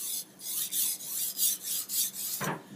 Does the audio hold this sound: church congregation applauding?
no